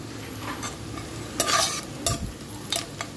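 Onions frying for prawn biryani while being stirred in a pan, with a steady close sizzle broken by a few louder scraping stir strokes, no voices.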